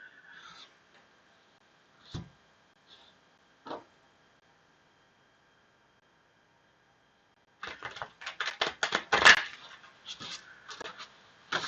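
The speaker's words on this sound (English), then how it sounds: "I'm determined to shuffle these cards my way." Rapid, papery riffling bursts of cards being shuffled, close by, following a few scattered soft taps and clicks in an otherwise quiet room.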